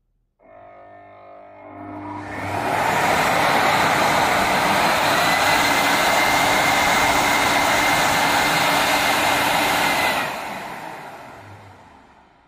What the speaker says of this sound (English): This is a big power vacuum machine.